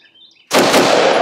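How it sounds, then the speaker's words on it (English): A CZ Bren 2 rifle fitted with a collapsible stock fires a loud, close burst that breaks in suddenly after a quiet moment and rolls on as a continuous roar of rapid shots. "Just gonna run this a little bit so you can see how the stock takes recoil, and just to see the gun run a little bit"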